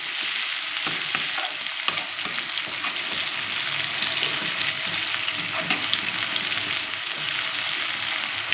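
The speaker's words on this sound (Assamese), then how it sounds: "এই স্লাইচখিনি পিঁয়াজখিনি যে স্লাইচ কৰি কাটি দিছিলোঁ, এতিয়া এইটো গল্ডেন কালাৰ হোৱালৈকে ভাজি ল'ম আমি।" Sliced onions frying in oil until golden, after paneer has been fried; a loud, dense sizzle crackles continuously and close up for the whole stretch, with faint stirring clicks and no talk.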